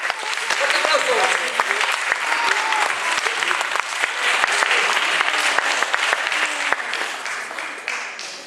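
Loud, sustained applause from a theatre audience, dense clapping that carries on for several seconds before thinning slightly at the end, with some voices underneath.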